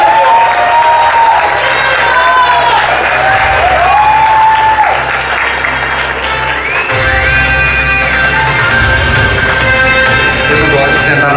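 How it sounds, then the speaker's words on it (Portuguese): An awards ceremony audience claps for a publishing editor, loud and sustained applause under music and scattered cheering. "Uma salva de palmas para o editor lindo!"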